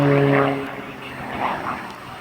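A Hurricane or Spitfire propeller plane at an air show gives a droning engine hum, strongest at the start, then fades and swells faintly as it passes at a distance.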